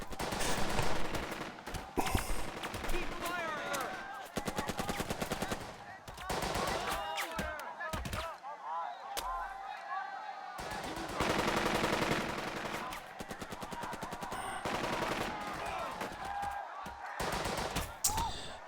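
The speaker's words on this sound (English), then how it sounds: "MG42 sound, of course" WW2 MG42 machine gun fire from the game Burden of Command, loud rapid ripping bursts broken by short gaps, mixed with other gunfire and occasional voices.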